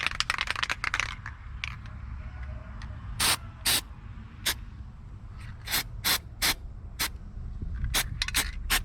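Short bursts of aerosol grease sprayed onto a car hood hinge where metal rubs on metal, about a dozen sharp hissing spurts in irregular rhythm, close and loud over a low background hum.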